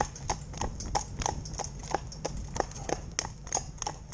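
A horse pulling a cart clip-clops on a road, its hooves landing in a steady, even rhythm of sharp knocks at moderate distance.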